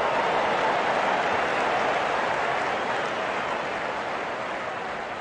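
Stadium crowd in Real Cricket 22 during a T10 match between Bangladesh and Ireland: a steady, broad roar of cheering spectators holds for about five seconds and fades slightly toward the end, with no distinct voices standing out.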